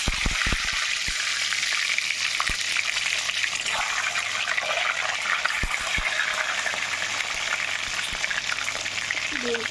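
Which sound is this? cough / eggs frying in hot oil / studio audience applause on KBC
eggs frying in hot oil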